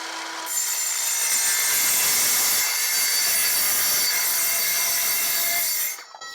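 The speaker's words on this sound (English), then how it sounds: "I don't really have too many complaints about this saw yet, because I've used it several times" A hand saw cuts steadily through material during a hibachi BBQ grill restoration, a close continuous rasping that runs for several seconds and stops abruptly at the end.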